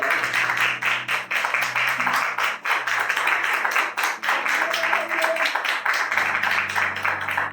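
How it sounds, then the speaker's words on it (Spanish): Applause at a live church podcast service: steady clapping from a gathered congregation, moderately loud and continuous, with sustained background tones running beneath it. "No sé si le das un aplauso a Dios por eso"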